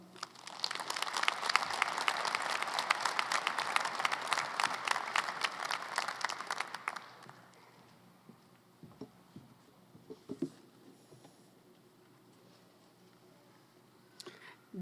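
A crowd at Bellevue University's 2024 winter commencement claps steadily and fairly loudly for the student speaker for about seven seconds, then the applause stops, leaving quiet room noise and a few small thumps.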